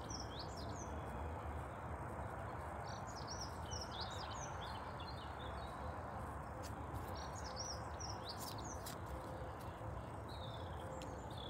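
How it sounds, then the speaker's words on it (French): Small birds chirp and twitter in a spring outdoor setting, many short calls scattered over the whole stretch, fairly distant and faint above a steady low rumble of background noise. "et vous écoutez les oiseaux"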